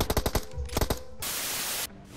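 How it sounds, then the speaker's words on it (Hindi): Rapid gunfire bursts in the mobile battle game PUBG Mobile, a rattling string of sharp shots followed by a longer burst of loud static-like noise that cuts off abruptly. "अब यार तुम ये नो स्कोप वाला हेडशॉट देखो"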